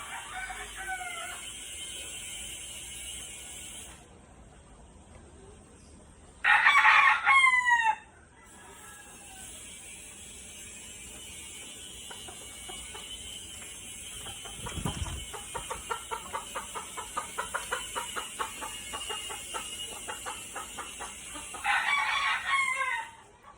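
Backyard breeder roosters crow loudly a few times, one crow early and another near the end, while chickens cluck and chatter softly in a quiet yard between the calls.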